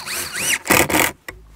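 A power drill drives a screw into the metal frame of a ventilated facade, a close, loud whirring burst that rises and strains as the screw seats, then cuts off, with a short final blip of the trigger.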